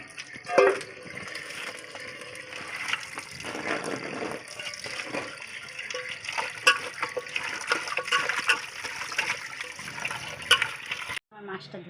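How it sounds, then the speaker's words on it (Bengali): Fish being washed in water in a home kitchen: running and splashing water with gushes and trickles throughout, while a person talks over it. "এই যে মাছের তেলগুলোকে ধুয়ে নিই একটু ভালো করে"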